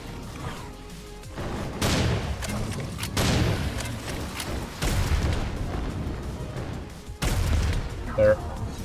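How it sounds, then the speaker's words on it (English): Gunfire in the blocky Minecraft-style shooter Serious SamCraft comes as a string of booming, irregular shots with rumbling low ends, close and loud, mixed with game noise and some talk. "I can't shoot these guys,"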